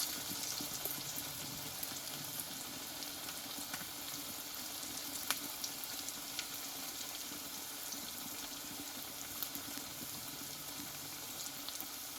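Potato and onion pakoras fry in a small amount of oil, giving a steady, soft sizzle with faint crackles throughout and no talking.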